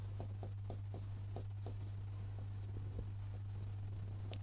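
Marker or chalk writing on a board during a geography lesson, a quiet series of short scratchy strokes in quick irregular rhythm over a steady low electrical hum.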